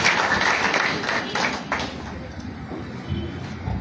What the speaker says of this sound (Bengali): জনাব মোহাম্মদ আব্দুল কাদের ভাইয়ের উদ্দেশ্যে সবাই জোরে করতালি